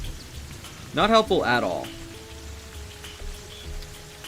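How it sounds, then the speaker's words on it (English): Rain patters steadily in the video game Terraria, a soft continuous hiss of drops under a brief spoken remark and some game tones. "early rainy weather like this is not helpful"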